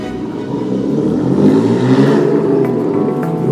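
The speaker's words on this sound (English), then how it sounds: "the sound of a beastly engine cuts through the courtyard" A Bugatti La Voiture Noire's engine roars with a steady, loud, close low rumble, its pitch swelling slightly through the middle before holding, with no voices over it.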